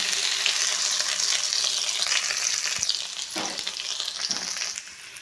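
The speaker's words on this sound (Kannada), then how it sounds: "ಇವಾಗ ಬೆಳ್ಳುಳ್ಳಿ ಎಲ್ಲ ಫ್ರೈ ಆಗ್ತಾಯಿದೆ ಕೆಂಪಾಗ್ತಾ ಬಂತು" Garlic frying in hot oil with mustard seeds and curry leaves for a North Karnataka okra buttermilk curry, a steady close sizzle with occasional stirring scrapes throughout, no voices.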